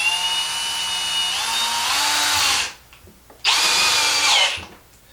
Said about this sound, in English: let's see how it drives the screw.